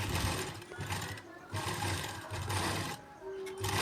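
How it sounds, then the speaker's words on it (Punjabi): A sewing machine stitches the upper part of a shirt collar, running in steady bursts broken by brief pauses, loud and close. "ਇਸ ਤਰੀਕੇ ਨਾਲ ਬਿਲਕੁਲ ਬਰਾਬਰ ਕਰਕੇ ਪੈਰ ਪੈਰ ਦੀ ਸਿਲਾਈ ਲਾਉਣੀ ਆ"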